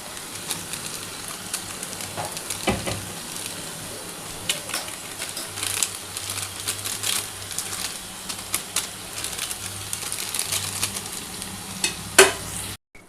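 Prawns and potato frying in a pan with Kashmiri chili powder while being stirred, a continuous crackling sizzle broken by scraping strokes of the spoon and a few sharp clinks, close and fairly loud.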